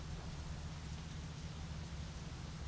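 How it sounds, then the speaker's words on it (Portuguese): Rain in the driving game My Summer Car, a steady, soft hiss of falling rain with a low rumbling undertone, continuous and fairly quiet, with no talk. "Tá chovendo de novo"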